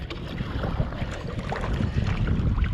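A kayak paddles near Willows Beach, with soft irregular splashes and water movement under steady wind noise buffeting the microphone.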